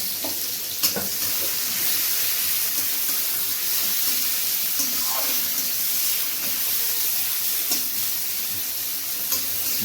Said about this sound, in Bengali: পাঁচফোড়ন দিয়ে সাথে পেঁয়াজ কুচনোগুলো দেওয়া হচ্ছে